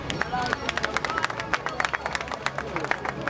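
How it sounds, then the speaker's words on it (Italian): Spectators at a 2014 marathon in Cotronei clap and cheer for arriving runners, a steady patter of applause with voices and crowd babble mixed in, fairly near. "Un applauso!"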